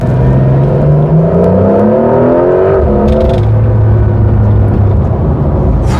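A Porsche 992.2 Carrera GTS, the first hybrid 911, accelerates hard. Its engine note climbs steadily in pitch through the revs, then settles into a lower, even drone. It is loud and close, with no talking.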